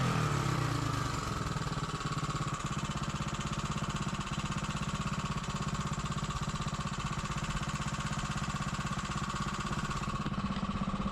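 A Briggs & Stratton engine on a Mega Moto minibike runs steadily throughout, a loud continuous close putter that holds a constant pace with no talking over it.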